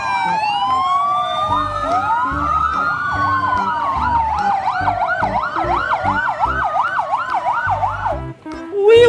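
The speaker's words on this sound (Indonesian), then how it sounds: "Ini ada mobil damkar." A toy fire truck wails with a loud electronic siren, sweeping up and down in quick, regular cycles with layered tones, continuous and close for the whole stretch.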